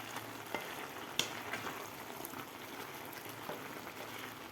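Grated carrot halwa sizzles and crackles steadily in a pan as it is stirred to dry out, with soft scraping clicks from the spoon over a continuous frying hiss, fairly quiet and close.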